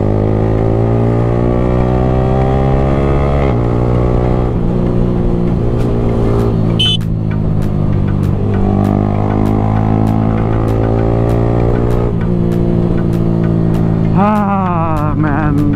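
A superbike with an aftermarket exhaust system revs its throttle and accelerates, the engine note climbing and falling in strong harmonic sweeps and holding loud and steady throughout with no one talking.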